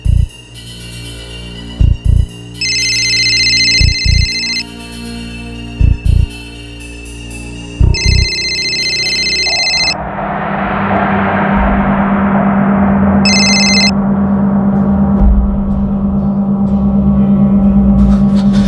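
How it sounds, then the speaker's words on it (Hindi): A telephone rings upstairs in repeated electronic bursts at a steady interval, over thumping beats and then a low continuous hum. "रिंग तो ऊपर ही बज रही है"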